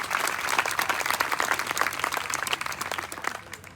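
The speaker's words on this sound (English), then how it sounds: "Let's give another hand to the Oakville Wind Orchestra." A concert audience claps for a community wind orchestra at a steel pan concert, a lively burst of many individual claps that is loudest at first and gradually thins and fades out.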